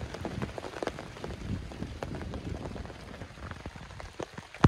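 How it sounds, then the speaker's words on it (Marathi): Steady rain patters on a surface, dense scattered drops with a few louder splashes, close by and with no voices. "पाऊस सुरू झाला आहे, पाहू शकता तुम्ही"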